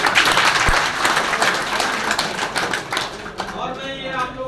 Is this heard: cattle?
no